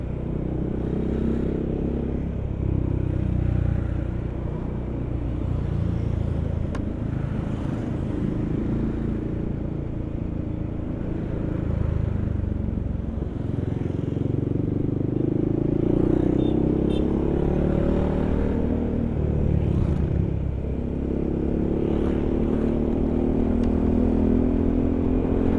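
Yamaha XMAX scooter engine running and revving: a loud, continuous low motor drone with a few rising swells in pitch.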